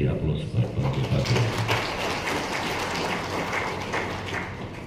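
Audience at a provincial government planning forum applauding the regents, a dense sustained burst of clapping, with a voice briefly audible at the start.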